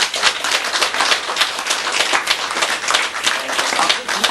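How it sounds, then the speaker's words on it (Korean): An audience at a Buddhist sutra lecture claps in a dense, lively burst of many hands, close and fairly loud, continuing steadily for several seconds without speech. "박수 쳤거든요."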